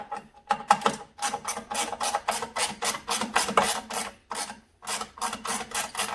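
Screws being tightened on a snowblower carburetor give a fast, steady run of close mechanical ratcheting clicks that pause briefly near the end, with no talking.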